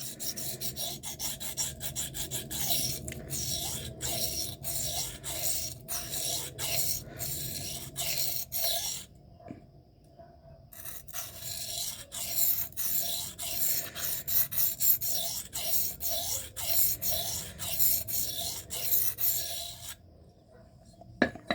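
A knife of M398, Maxamet or MagnaCut steel is hand-sharpened on a stone in repeated rhythmic rasping strokes, close and steady, with two brief pauses.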